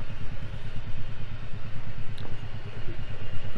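A motorcycle engine runs on a Spiti Valley road trip in Himachal, a steady low, throbbing rumble that continues close by throughout.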